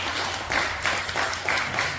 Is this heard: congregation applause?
yes